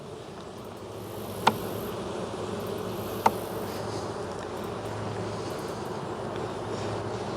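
Honeybees drone in a dense, steady buzz while their hive is opened for inspection. The sound is close and continuous, broken by two sharp clicks.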